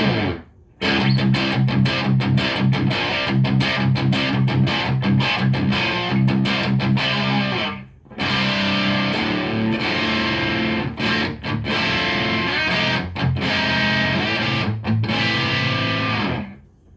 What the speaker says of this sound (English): this is the lowest amount of distortion you're going to get out of it. I got the gain turned all the way down, and it's on the neutral setting